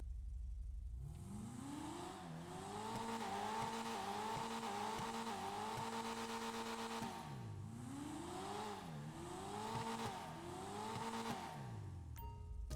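Invetero Coquette sports car in GTA Online revving hard through repeated rising and falling gear sweeps, a loud, high-pitched engine wail with tire squeal, continuous for about twelve seconds with no talk.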